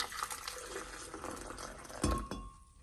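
A small amount of water pours into a blender jar holding chiles in a home kitchen, a soft trickling splash building to a brief louder burst near the end, close and alone.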